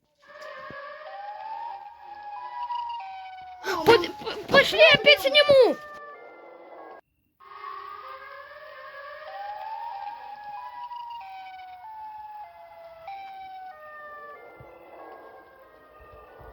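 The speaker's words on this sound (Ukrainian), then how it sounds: "Чутно сирену." A wailing siren rises and falls in long sweeps at a distance, interrupted by a loud burst of close talking and rustling, then continuing on.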